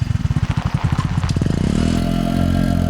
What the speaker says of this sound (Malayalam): അതാരും ഈ നേരത്ത് ബൈക്കിൽ?